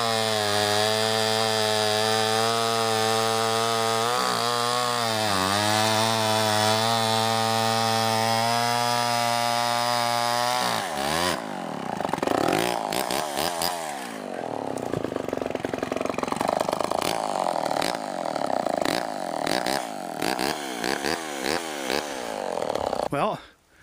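An old Homelite XL12 chainsaw idles with a steady, loud drone, then revs and bites into a butternut log, the cutting roar rising and falling unevenly until it stops at the end.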